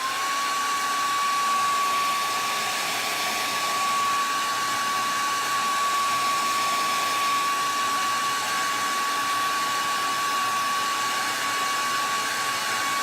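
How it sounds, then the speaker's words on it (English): A hair dryer blows on wet paint on a welcome sign, a loud steady whine with a fixed high tone, running unbroken and close for about thirteen seconds. "I'm going to blow dry that a little bit"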